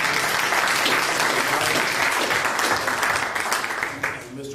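Steady applause from a standing audience at a board of education meeting fills the room, a dense even roar of clapping that thins slightly toward the end.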